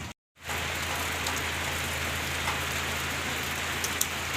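Rain falls steadily in a dense, even hiss after a brief silent gap at the start, with a few louder drops near the end and no voices.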